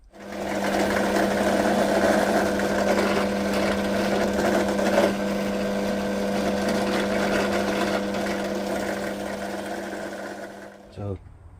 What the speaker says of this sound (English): So drilling 6mm holes in all the pieces